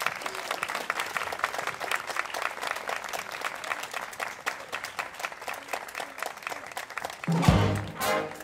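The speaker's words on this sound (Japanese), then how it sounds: "お集まりの皆さんも、盛大な拍手でお迎えください。" Steady audience applause at a jazz orchestra event welcoming a singer on stage, dense clapping throughout, followed near the end by a microphone thump and a brief voice.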